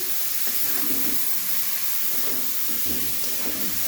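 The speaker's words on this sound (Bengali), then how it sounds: "এই যে মিক্স করে এটা এখন লাউটা একটু নাড়বো।" Bottle gourd and fish being stirred in a cooking pot for gourd-fish pulao, a constant steamy sizzling hiss with a few soft scraping and shifting sounds from the stirring, close by with no talking.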